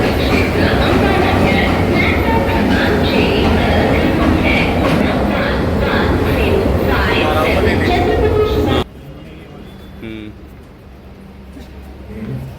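Shatabdi Express train noise at a station platform: a loud, dense rumble of a train moving alongside that cuts off sharply, leaving quieter platform ambience.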